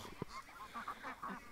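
Pekin ducks calling in short, faint honking quacks, several scattered through the moment with a brief sharp knock near the start.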